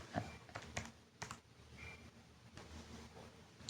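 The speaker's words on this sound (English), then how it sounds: "then you just have to type this into your calculator" Soft, scattered key presses on a calculator while working a GCSE statistics problem: a handful of quick, quiet clicks in an irregular rhythm with no talking.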